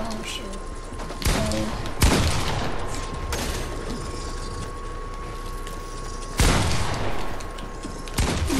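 Fortnite gunfire rings out in a few sharp, loud bursts spaced across the clip, with a steady tone and game ambience running underneath.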